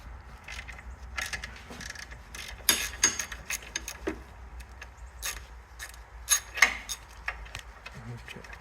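A ratchet driving a 12-point triple-square Torx bit on the starter of a 2012 Audi A6 3.0, heard as close, irregular clicking and metallic ticks with small clanks, fairly faint, with some quiet speech at times.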